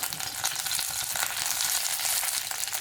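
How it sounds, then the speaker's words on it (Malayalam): Curry leaves hitting hot coconut oil in a kadai, a loud, steady crackling sizzle with bright spattering bursts, no voices. "വെളിച്ചെണ്ണ ചൂടാകുമ്പോൾ നമുക്കിതിലേക്ക് കറിവേപ്പില ഇട്ട് കൊടുക്കാം"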